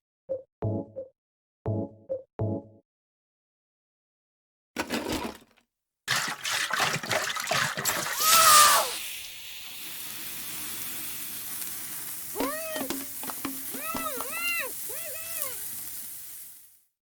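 Detergent mixed with bleach in Silent Hill 3, releasing chlorine gas: a few short clicks and thuds, then a rising hiss surges loudly and settles into a steady fizzing, with eerie tonal cries layered over it.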